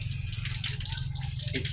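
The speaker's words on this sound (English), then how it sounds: "We reprime it by simply doing this, which draws the water up, and then the pump can ask for the water." Water gushes and trickles steadily as a household water pump in a house build in the Philippines is reprimed, with a constant low mechanical hum beneath the flowing water.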